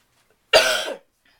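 One short, sharp cough from a person seated nearby, isolated against near silence.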